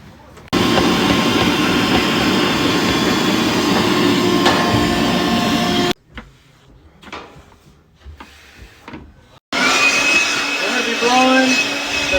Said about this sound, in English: Blowing the bed out, any top surfaces. We want to blow the track out.